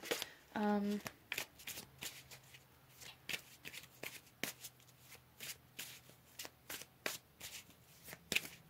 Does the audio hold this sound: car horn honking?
no